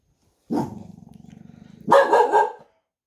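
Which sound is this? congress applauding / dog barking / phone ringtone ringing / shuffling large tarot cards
dog barking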